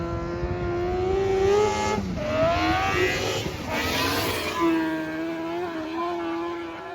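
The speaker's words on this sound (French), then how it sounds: "un crosscar passe à toute allure" Crosscar racing past at full speed at Adrenalina Moto Park in Poland, its engine revving hard and rising and falling in pitch as it shifts gears, loud and close throughout.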